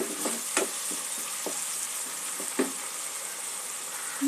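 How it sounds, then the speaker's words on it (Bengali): Spice paste with sour yogurt fries for a katla fish rezala, a steady close sizzle broken by several distinct scraping stirs of a spatula in the pan. "টক দই দিয়ে মশলার সাথে আরও একটু কষিয়ে নেব।"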